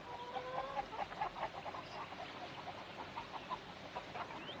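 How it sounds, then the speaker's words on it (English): Hens clucking in short repeated bursts, several birds calling irregularly at moderate distance over a faint background hiss, no speech. "Hens."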